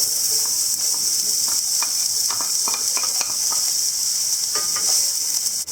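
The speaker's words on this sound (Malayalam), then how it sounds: "നമുക്കിനി ഇതിലേക്ക് സവാള ചേർക്കാം." Sliced onions tumble into a pan of hot spices and sizzle steadily throughout, with faint stirring clicks and scrapes layered over a bright, continuous frying hiss.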